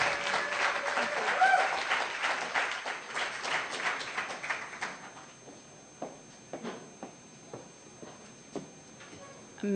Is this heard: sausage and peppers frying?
no